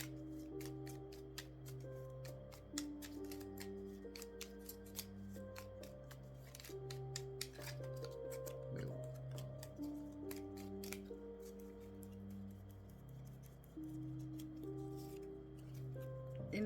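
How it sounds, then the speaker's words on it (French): A new fairy oracle card deck being shuffled for the first time, producing repeated soft papery riffles and slides that run steadily under sustained background music throughout. "Les cartes sont comme ça. Et je le brasse pour la première fois avec vous."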